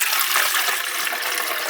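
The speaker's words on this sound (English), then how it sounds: "All right, pour some water in there." Water pours into the water tank of a Sanremo espresso machine, a steady splashing gush that stays close and loud throughout with no talk over it.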